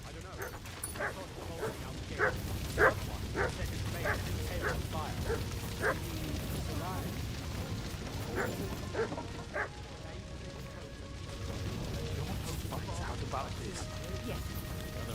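Dog barking in the medieval video game Kingdom Come Deliverance, a run of repeated yips and barks near the start and middle, mixed with game ambience while a person talks.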